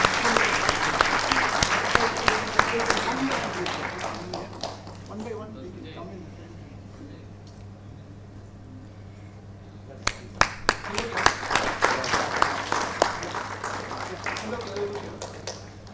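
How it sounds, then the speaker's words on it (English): Cheering applause at a sports panel discussion, many hands clapping loudly, thinning to a quieter lull with scattered claps, then swelling again with sharp individual claps near the end. "cheering round of applause."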